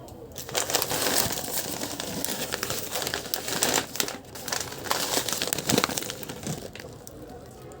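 A quarter-kilo plastic bag of fine shredded coconut crinkles and rustles as it is handled, close and fairly loud, in irregular bursts of crackling throughout.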